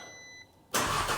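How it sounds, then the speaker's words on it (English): An Audi RS3 engine is cranked and starts up. Faint electronic chime tones come first, then a brief pause, then a sudden loud roar as it fires, close and sustained. "Let's go for a crank."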